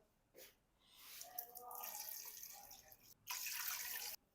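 Water pours steadily into a metal pressure cooker, a close hissing splash that pauses briefly and then resumes, fairly quiet.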